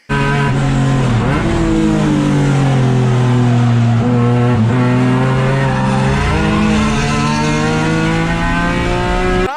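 Race cars, including a Honda S2000, roar loudly through the turns at Heartland Motorsports Park during a GridLife race. The engine note holds at high revs and shifts in pitch, with some tire squeal.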